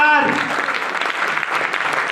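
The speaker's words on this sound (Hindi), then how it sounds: "अरे भाई जोरदार ताली तो होना चाहिए ना यार," An audience claps loudly and continuously, a dense close burst of applause right after a short spoken phrase at the start.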